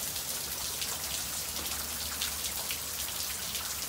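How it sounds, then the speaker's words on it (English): Steady rain falling and pattering on surfaces outdoors, a dense even hiss with scattered drops throughout, fairly close and with no voices. "It's raining."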